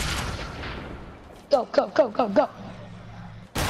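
Sniper shots in Fortnite at Tilted Towers, heard as five sharp, loud cracks in quick, even succession, each with a short ringing tail, after a shouted word over low game noise.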